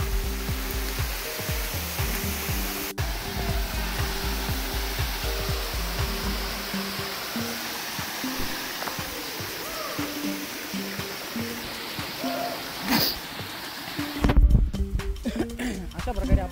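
Monsoon runoff from the first rain rushes down Siddhagad waterfall in a loud, constant roar of water, with a few louder splashing bursts near the end.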